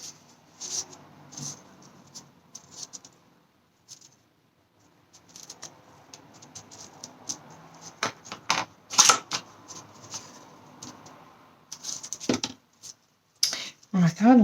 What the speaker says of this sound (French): On coupe en deux.